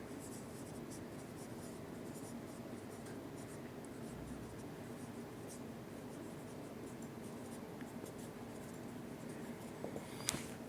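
Pen scratching across paper while working through partnership capital accounts, a steady soft scribble running continuously for the whole stretch, close and quiet, with a brief sharper tap near the end.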